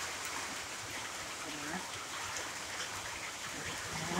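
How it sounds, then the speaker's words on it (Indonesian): Steady rain hisses and patters on surfaces in a village in Tutong, Brunei, with faint voices in the background. "Tu nampak kedengaran bunyi hujan"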